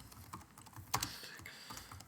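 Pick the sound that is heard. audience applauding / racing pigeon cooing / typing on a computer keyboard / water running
typing on a computer keyboard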